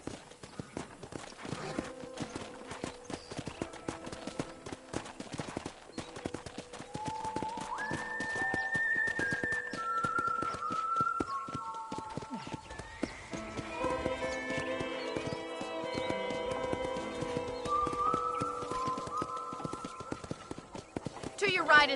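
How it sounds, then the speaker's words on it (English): A horse's hooves clip-clop under a ride in Red Dead Redemption, soft against a game score of sustained tones, with a neigh in places and people talking over it. "I picked out a fine horse for you. Giddy up!"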